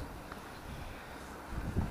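Wind blowing outdoors near the seaside, a low steady rumble buffeting the microphone with a stronger gust toward the end, no speech.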